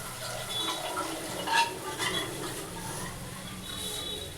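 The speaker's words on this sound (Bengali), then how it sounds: "কুকারটা ধুয়ে একটু জল দেব" Water poured and swirled while rinsing out a pressure cooker in a home kitchen, a soft continuous trickle and splash at low volume with small clinks, heard alone.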